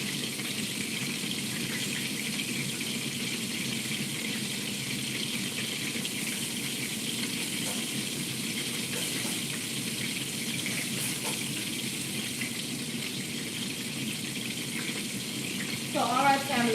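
Lightly floured food frying in a pan, a steady sizzling crackle that holds evenly at moderate volume, with a brief clatter near the end.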